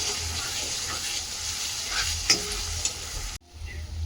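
Five eggs for egg bhurji fry and sizzle in a pan as they are stirred, a steady close hiss with spatula scrapes that drops off sharply near the end before the sizzle resumes.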